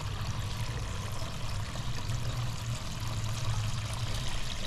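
Water runs steadily from a fountain in an outdoor bird aviary, a continuous broadband splash and trickle that holds at a moderate, even level throughout with no talk.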